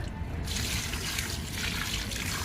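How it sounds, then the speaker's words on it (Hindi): Water is poured into a plant pot on a rooftop, a steady close trickle and splash of liquid running continuously without pause. "तो ये डाल दिया मैंने अच्छे से इसमें पानी।"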